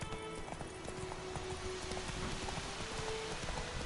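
Hooves of the horse Roach in The Witcher 3, a steady, faint clip-clop of walking steps over soft ambient noise, with no talking.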